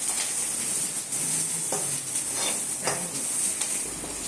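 Semolina roasting in ghee in a pan for upma, giving a steady close sizzle with light stirring scrapes throughout.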